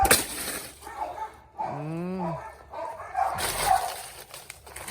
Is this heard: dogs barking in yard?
yes